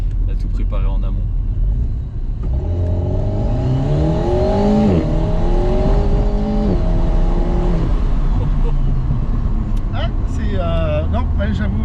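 Alpine A110 GT sports car engine running and revving, with a loud sustained engine tone that rises and sweeps in pitch over several seconds, while people talk nearby.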